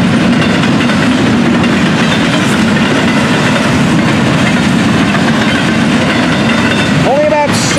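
A freight train with stack cars and auto racks rumbles past up close with continuous loud clattering of cars over the rails and a steady low roar, ending with a brief squeal.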